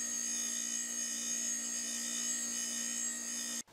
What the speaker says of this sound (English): Once the tubes have been soldered, I clean the exterior with a wire wheel.